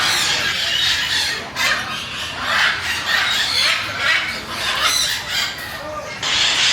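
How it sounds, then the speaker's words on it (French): South American parrots at a busy Bangkok market give shrill, repeated squawks and screeches in bursts, loud and near, with a murmur of background noise between calls. "Ça, c'est des perroquets d'Amérique du Sud."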